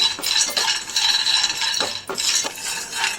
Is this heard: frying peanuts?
yes